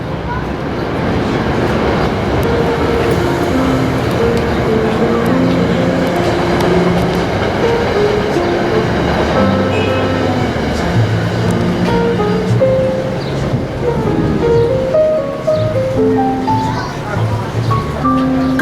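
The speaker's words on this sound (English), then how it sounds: "Pardon the train and the wind blowing" A passing train rumbles and rattles continuously and loudly alongside gusting wind, a heavy steady roar lasting the whole stretch.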